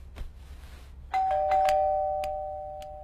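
A doorbell rings at home over a faint hum, first a light tap, then a clear two-tone chime whose tones linger and slowly fade, with no one speaking.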